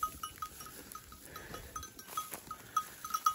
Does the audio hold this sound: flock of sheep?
yes